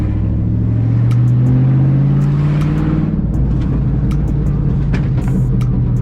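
A loud, deep V8 exhaust from a straight-piped Shelby GT500 with a 5.4-liter engine and no catalytic converters rumbles and drones close by, rising and falling with throttle, with crackles and pops as it lets off.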